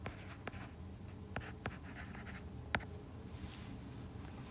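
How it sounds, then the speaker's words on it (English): Pen or pencil writing on paper during geometry notes: faint, close scratching strokes with a few sharper taps, steady and quiet with no talking. "now I should actually write it out"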